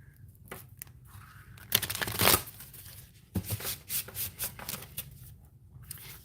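A deck of playing cards being shuffled by hand, with soft riffling and rubbing followed by a louder rapid riffle and several short bursts of card flutter, close and with no talking.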